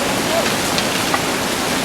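Steady rain hisses continuously on a mountain hiking path on the trek to Kedarnath, a broad close wash of noise with a voice speaking over it.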